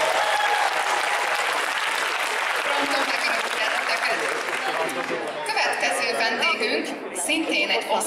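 Sustained applause from an audience greeting a cosplayer at an autumn anime convention, steady dense clapping throughout with crowd chatter mixed in, thinning slightly toward the end.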